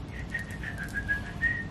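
Person whistling a short, quiet tune of a few wavering notes at a steady pitch, heard alone with no talking.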